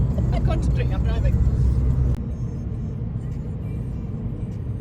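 A car cruises along a road in Speyside, northeast Scotland, its engine and tire noise a steady low rumble inside the cabin, with people talking over it at first before the drone continues alone.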